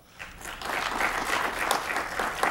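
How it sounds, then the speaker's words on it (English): Audience applause greets a city official at a regional civic event, a full, continuous patter of many hands swelling quickly and holding steady. "Give him a big round of applause."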